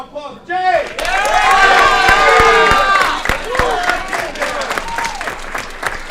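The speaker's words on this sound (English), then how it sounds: "Another round of applause for James." At a city council meeting, a crowd claps and cheers for a basketball champion, a loud burst of applause with whoops that holds steady and then tapers off.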